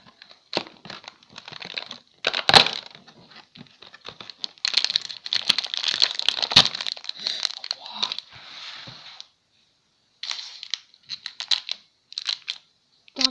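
An advent calendar window is opened on its 21st day, with steady crinkling and crackling of plastic and cardboard packaging close up, broken by a short pause before more rustling.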